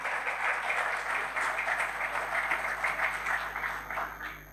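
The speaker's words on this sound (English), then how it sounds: "So a big round of applause for all of you." An audience at a class reunion event at IIT Kanpur applauds in a sustained burst of dense clapping that fades slightly toward the end.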